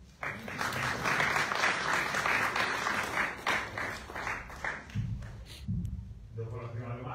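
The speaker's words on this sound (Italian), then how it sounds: "Applauso." Applause fills a press conference presenting Italy's basketball match against Ukraine, a dense, steady wash of clapping that fades after about five seconds as a voice begins speaking.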